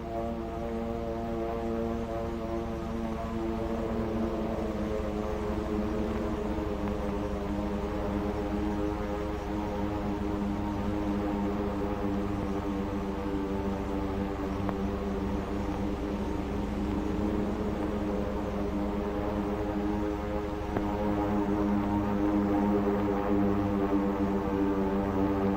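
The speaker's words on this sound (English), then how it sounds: "the drone of planes was faintly heard" A steady, droning hum of propeller aircraft engines in a 1943 film about the Pearl Harbor attack, continuous and unchanging throughout, with layered tonal throbbing and no voices.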